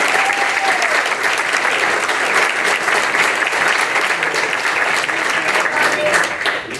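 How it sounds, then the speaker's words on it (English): A seated audience at a Sunday speaker series gives a sustained round of applause for a local DAR regent, full and steady throughout with a few voices beneath. "Come on, give her a round of applause"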